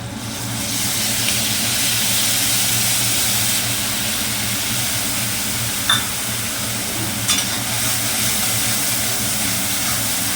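White seed paste, poppy-seed style, fries in a pan with a steady low hiss and occasional stirring clinks, continuous and moderately loud with a constant hum beneath it and no talking.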